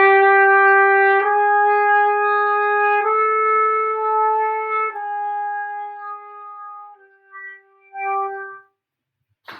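A trumpet plays a descending chromatic run of sustained notes, one by one, each with strong clean harmonics, alone and fairly loud, before it trails off into a few short quieter notes.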